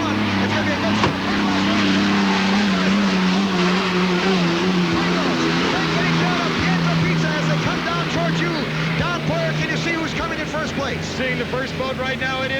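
Hydroplane racing boat engines roar loudly and continuously, a powerful droning whine, while a commentator talks over the noise, at the 1987 Tri-Cities Columbia Cup final heat.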